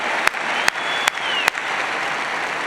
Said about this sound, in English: I had to clap for you guys.